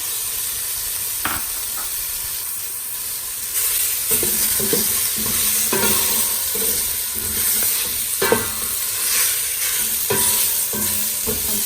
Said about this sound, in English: Now I'm adding my 2 medium-sized sliced onions, red onions.